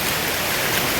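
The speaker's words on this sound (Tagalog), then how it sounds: "ay bumuhos ang mas malakas na ulan" Heavy rain pouring down during flooding, a dense, steady hiss of water falling on surfaces, loud and continuous with no voices.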